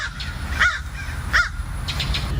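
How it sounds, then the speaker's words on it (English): A crow caws twice, loud and close, then a softer cluster of calls follows, over a low background rumble. "You want to hear the crow again?"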